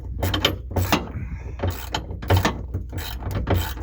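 A socket wrench ratchets on a shock bolt of a hatchback, sounding as repeated bursts of clicking strokes in an irregular rhythm, close and fairly loud, with no talk over it.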